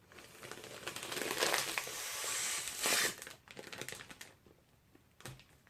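Faint crinkling and rustling of a double Ziploc bag as air is sucked out through a straw to vacuum-seal it, a few seconds of soft plastic crackle with light mechanical clicks, close and quiet, no talk.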